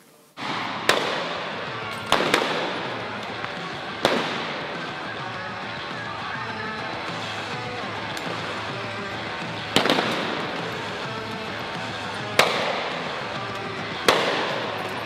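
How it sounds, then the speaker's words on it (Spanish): Police fire rubber bullets at protesters in the street, sharp cracking shots at irregular intervals over a constant loud crowd din, recorded at the scene. "jóvenes impasibles ante los disparos de las pelotas de goma"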